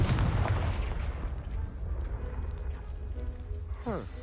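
A Confringo fire spell in Hogwarts Legacy, cast at a pile of blocking debris, lands in a heavy, booming blast that fades into a rumbling, crackling tail, with a brief voice at the end.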